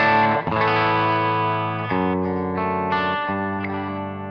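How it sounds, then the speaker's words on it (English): Sustained electric guitar chords through a Klon-style boost pedal ring out with a thick, lightly driven tone, changing a few times over a steady, loud strum. "this is the sound of the Klone as like a boost pedal."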